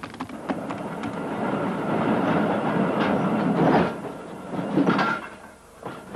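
Freight train entering the shunting yard at Maschen marshalling station in Germany, moderate rolling rumble with clanks and knocks of railcars rising and falling, heard without talk.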